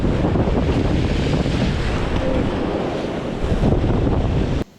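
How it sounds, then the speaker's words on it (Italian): Sea surf churns on a stormy coast during rough-weather shore fishing for sea bass and bream, a dense continuous roar of breaking waves mixed with heavy wind buffeting the microphone, steady and loud throughout before cutting off at the end. "finalmente iniziamo a vedere le onde crescere"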